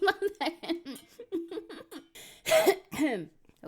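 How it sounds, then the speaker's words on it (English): A male singer clears his throat with a short, rough burst partway through, set between high sung and hummed vocal phrases in his upper register. "you're not supposed to be clearing your throat like that"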